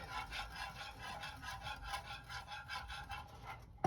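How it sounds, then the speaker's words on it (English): Rhythmic rapid whisking of a thickening milk sauce in a pan over medium-low heat, fast repeated scraping strokes, close but fairly quiet, with no voices. "And whisk the shit out of that until it starts to get thick"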